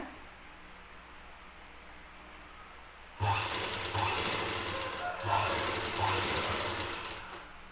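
A sewing machine stitches thread piping on a blouse using a double foot, running in close, steady bursts with short pauses between them after a quiet start.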